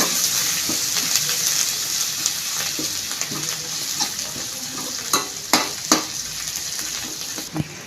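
Onions and green chillies with turmeric fry and sizzle in a pan for a Kerala raw papaya stir-fry, a steady hiss with a few sharp scraping clicks of a spoon stirring near the end, no voices.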